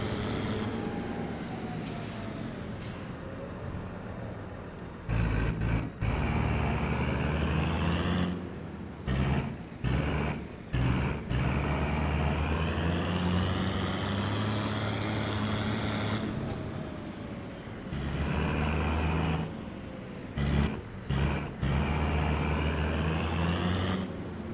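A tractor driving in the Farming Simulator 22 video game: a steady engine drone that cuts out and returns several times, with shifting pitch as it moves, and no talk.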